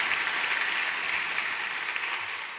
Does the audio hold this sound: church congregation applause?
yes